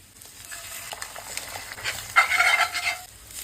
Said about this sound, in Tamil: இப்போ பேனில் எண்ணெய், சோம்பு, இஞ்சி பூண்டு பேஸ்ட், பச்சை மிளகா அண்ட் கருவேப்பிலை சேர்த்து வதக்கி வெங்காயம், குடமிளகாவை போட்டு நல்லா வதக்கி விட்டு